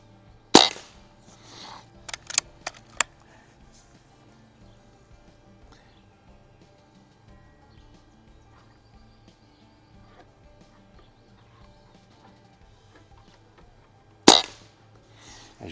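Shots from a Barra 1100z .22 caliber PCP air rifle fired while plinking at targets in a backyard: a sharp crack near the start, several quicker lighter snaps and clinks just after, then quiet until one more loud shot near the end.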